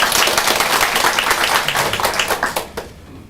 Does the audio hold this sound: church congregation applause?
yes